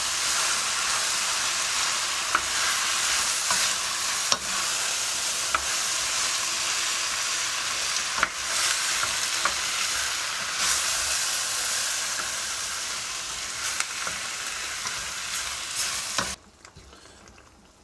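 Tomatoes fry and reduce in a pan for piperade, with a steady, bright sizzle and occasional utensil taps as they are stirred, cutting off abruptly near the end.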